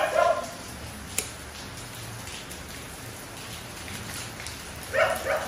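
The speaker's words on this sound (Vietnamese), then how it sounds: "Hiện tại là ngoài trời đang mưa" Steady rain falls outdoors on a dark day, a continuous close hiss of drops with a few louder splashes near the start and end.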